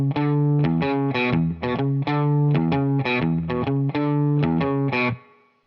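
A distorted electric guitar plays the main riff of a song, a bluesy E-based pattern of chugging repeated notes and chords in a tight, driving rhythm, loud and alone before ringing out at the end.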